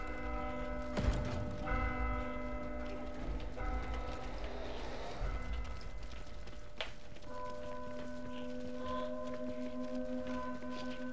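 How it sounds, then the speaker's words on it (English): Bell tolling in the video game Vermintide 2: several loud, ringing strikes with long sustained tones, one near the start, another around the middle and a final one later, each decaying over clattering game sounds. "Can we please ring the bell?"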